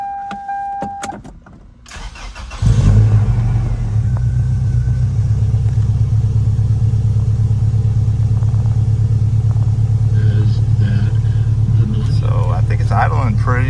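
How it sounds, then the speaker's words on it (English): A Toyota Tacoma pickup's 3RZ engine with new injectors cranks and fires up after a few seconds of quiet handling noise, then settles into a steady, smooth rumbling idle close by. "Idling pretty smooth"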